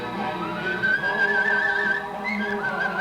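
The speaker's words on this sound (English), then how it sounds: "Does a phenomenal job of whistling." A man whistles a sustained, wavering melody at the 1983 International Whistle-off contest in Carson City, Nevada, his clear tone sliding between pitches over a steady room background, close and fairly loud.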